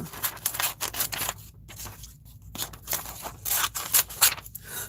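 Scissors cut a necklace picture out of a glossy magazine page for a collage: a run of close, crisp snipping and paper rustling, with a short quieter pause midway and no talking.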